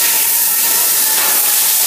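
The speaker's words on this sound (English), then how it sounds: "They're just buffing it right now." A buffing machine polishes a BMW 650 convertible, giving a steady, loud broadband hiss with a faint whine running through it, continuous and close with no talk.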